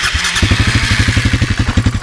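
A 125 motorcycle engine starts after a few turns and settles into a loud, close, rapid clattering idle with steady even pulses.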